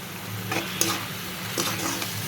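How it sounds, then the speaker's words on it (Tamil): Tomatoes sizzle steadily in a hot pan with turmeric, with occasional soft scrapes of stirring. "தக்காளி நல்லா வதங்கிடுச்சு"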